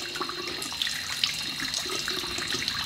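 Hot water runs steadily from a tap in a barber shop, a constant close splashing rush with small clinks on top, heard alone without talk.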